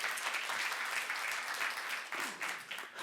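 A church youth-group audience at a sermon breaks into applause: a dense wash of many hands clapping, moderately distant and fairly quiet, fading slightly toward the end.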